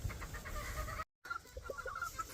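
A young rooster, about six months old, clucks faintly in a farmyard in soft, scattered calls over low background noise, with a brief dropout midway.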